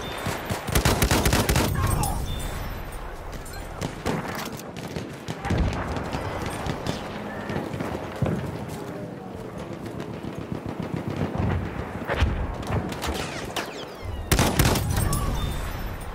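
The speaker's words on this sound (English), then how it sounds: "Machine gun! One of theirs!" Video game Conquest battle with sustained, loud bursts of machine gun fire mixed with other dense gunfire and explosions, continuing without letup throughout.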